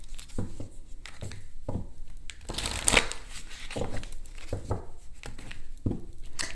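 Tarot cards are shuffled by hand in repeated short riffles and soft slaps, a close, fairly quiet rhythmic shuffling with brief pauses between bursts.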